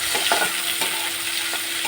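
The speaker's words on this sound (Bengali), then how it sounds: "তো পেঁয়াজটা ভাজা হতে থাকুক" Chopped onions and eggplant fry in oil in a pan, a steady broadband sizzle with a few soft stirring scrapes over two seconds, close and moderately loud.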